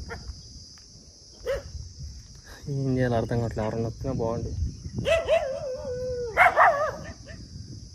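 Several dogs on a roadside bark and howl at close range over a constant chirp of crickets, while someone talks between the barks.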